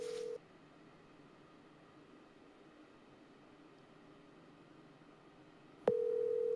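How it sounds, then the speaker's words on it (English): A phone call rings out steadily on a handset, a continuous electronic tone over faint hiss, with a brief higher tone at the start and a louder one at the end. "How long do phones ring, dude?"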